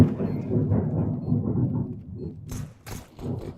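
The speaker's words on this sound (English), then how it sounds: "That's just thunder outside." Thunder rolls outside during a storm, a deep continuous rumble that swells and fades, with a few sharper cracks and crackles toward the end; no voices.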